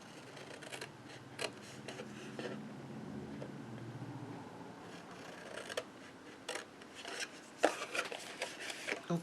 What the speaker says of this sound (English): I like to cut the score line out or just cut directly on the score line to make it nice and neat.